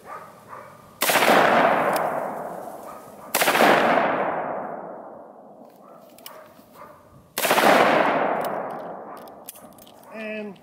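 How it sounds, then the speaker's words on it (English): Three loud, close .44 gunshots are fired at body armor lying on the ground, each a sharp crack followed by a long ringing decay, spaced a few seconds apart with faint movement between. "We'll shoot at it on the ground."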